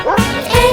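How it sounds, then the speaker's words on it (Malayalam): Brief dog barks in a Malayalam children's nursery rhyme about a farmer's dog, sounding as two quick, loud, close yips over music. "ഒരു നായ ഉണ്ടായിരുന്നു കർഷകന്, പേര് അതിന്റെ ബിങ്കോ."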